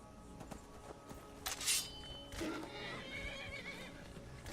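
A horse whinnies in the fantasy video game Skyrim, a brief high neigh followed by snorting, heard faintly over steady game ambience and soft hoof movement.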